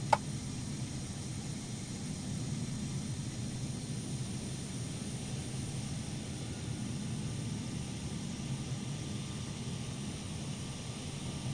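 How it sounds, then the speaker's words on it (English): A steady Airbus A321neo jet engine drone spooling up in a flight simulator game holds at an even level throughout, a continuous low rumble with a faint high whine above it, no voices. "Starting engine number 2."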